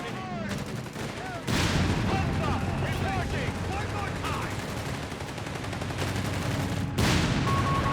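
Rifle gunfire and battle noise in the video game Company of Heroes 3, with a desert-war match pitting Afrika Korps against US forces: sharp repeated shots over a dense, loud combat rumble, with a burst of heavier fire after a brief lull.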